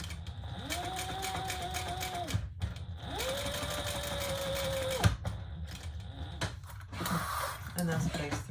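A sewing machine bastes a leather retro-style sling bag, two close bursts of rapid mechanical stitching hum of about two seconds each, separated by short pauses and followed by quiet handling noises.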